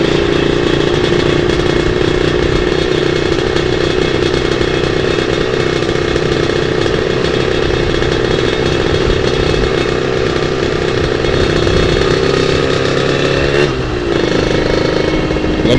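A Yamaha RX King two-stroke motorcycle engine drones loudly and continuously while riding, a dense buzzing roar close up with a slight dip and rev change near the end.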